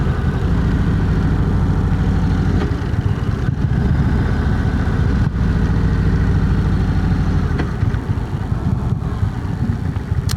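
A 2025 Indian Springfield Dark Horse motorcycle engine idling close by, a steady loud low rumble with brief dips as it is moved, no speech.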